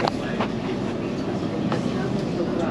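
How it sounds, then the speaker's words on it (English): A London Overground Class 378 train on the Mildmay line toward Stratford rumbles steadily from inside the carriage, with a continuous low roar and faint clicks of wheels over the track. "This is a Mildmay line train to Stratford."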